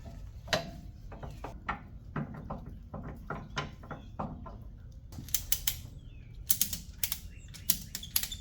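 A ratchet strap is fed and looped through the control arm of a Stiletto during a 15,000-mile bushing replacement, giving a run of close, irregular clicks, rattles and scrapes over a low background hum.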